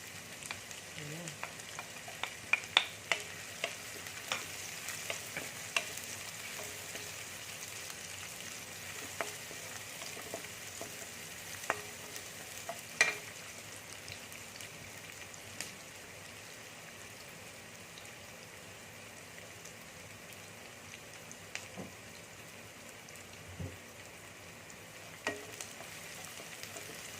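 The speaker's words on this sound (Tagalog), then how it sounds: "igigisa natin yung sibuyas hanggat maluto siya" Onions sauté in a hot pan with oil, a soft steady sizzle that runs the whole time, dotted with faint scrapes and taps as they are stirred.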